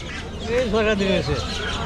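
Chickens and ducks at a rural Bangladeshi village market, a short close cluck or squawk rising over crowd murmur and nearby chatter.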